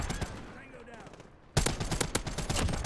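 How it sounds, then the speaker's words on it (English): A light machine gun opens up in a video game, a sudden loud sustained burst of rapid shots after a quieter stretch of distant action, with a voice talking briefly underneath. "this light machine gun is something else"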